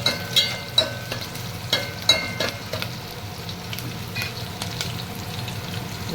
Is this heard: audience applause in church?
no